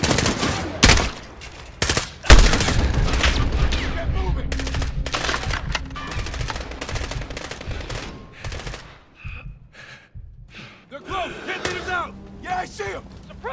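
Rapid, loud bursts of machine gun fire ring out in a Modern Warfare video game firefight, with heavy gunfire filling most of the stretch before tapering into scattered shots, while voices call out nearby.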